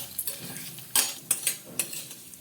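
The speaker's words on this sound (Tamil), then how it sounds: "உளுத்தம்பருப்பு நமக்கு லைட்டாக செவக்கணும் செவக்கிற அளவுக்கு நம்ம இதை வந்து வறுத்துக்கலாம்" Urad dal and ginger are roasted in a pan, making a soft background sizzle broken by a few sharp clinks of a metal spoon against the pan, with no one speaking.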